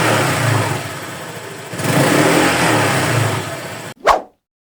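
A Honda Click 125i scooter engine, just fitted with new RCB brake shoe and pads, runs close and loud with a rising rev midway, holds steady, then cuts off with a brief final burst.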